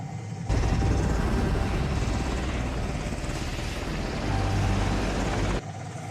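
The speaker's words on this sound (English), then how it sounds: "it's a helicopter." A helicopter passes overhead during a Stranger Things episode, a loud, steady rotor roar with a low rumble that begins abruptly, holds for about five seconds and then cuts off.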